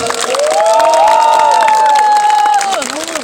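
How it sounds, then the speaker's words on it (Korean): Festival crowd at the 2024 Seoul Pungmul Market festival cheers and applauds for an invited singer: a loud, brief burst of sustained shouting voices over clapping. "많은 응원의 박수 부탁드리겠습니다"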